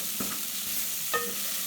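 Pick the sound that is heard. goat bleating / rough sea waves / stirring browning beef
stirring browning beef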